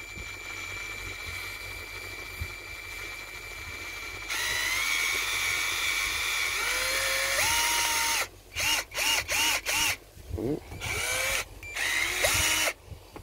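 A power drill set to hammer mode runs in a long steady burst, then winds up and down in a string of short, choppy pulses, loud and close, with no talking over it.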